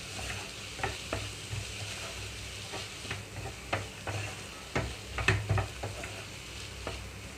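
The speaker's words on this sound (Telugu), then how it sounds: "పెసరపప్పు వేసిన దగ్గర నుంచి మూడు నుంచి ఐదు నిమిషాల పాటు మూత లేకుండా ఫ్రై చేస్తున్నాను" Moong dal and chopped beans frying in an open pan, a soft steady sizzle broken by repeated scraping strokes of a spoon stirring, close and fairly quiet, with no talking.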